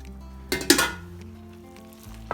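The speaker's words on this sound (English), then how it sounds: "Give it a good mix." Linguine with clam sauce is stirred in a hot pan: a burst of sizzling and scraping from the utensil against the pan, close up, then a quieter low simmer.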